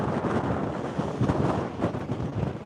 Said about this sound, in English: This is 60 some mile an hour gust right now.